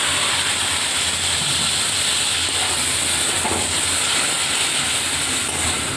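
Water poured into frying chicken masala in a home kitchen, making a loud, steady broadband hiss that runs unbroken and close throughout, with no talk.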